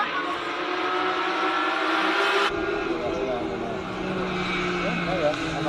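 A Porsche race car drives up a hill-climb course in Cape Town, its engine droning close and fairly loud with a shift in tone midway, while a commentator talks over it.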